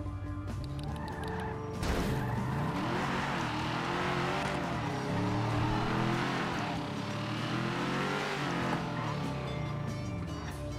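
A newly acquired car in a video game drives and skids, its engine droning with rising and falling revving tones alongside a sudden crash-like burst and continuous scraping noise, loud and busy throughout.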